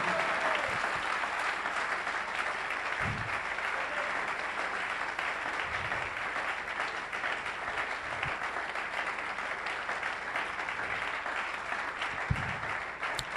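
A church congregation gives sustained, loud applause for a pastor, the clapping dense and even from start to finish, with a few dull low thumps underneath.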